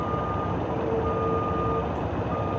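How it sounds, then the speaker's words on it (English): A truck's reversing alarm beeps in a steady, insistent tone over a low engine rumble, continuing throughout without pause and with no one talking. "That constant beeping, I can't."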